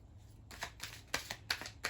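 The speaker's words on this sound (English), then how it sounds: "shuffle the cards ahead of time" Tarot cards being shuffled at a table, a soft papery riffle that builds into four distinct quick bursts of flicking cards, close and fairly quiet with no voices.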